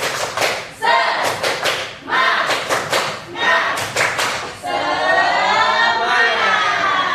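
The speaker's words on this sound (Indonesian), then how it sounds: "Coba kita tepuk semangat dulu." Schoolchildren in a classroom perform a rhythmic spirit clap in loud, synchronized bursts of group claps with chanting between them, ending in sustained shouted chanting.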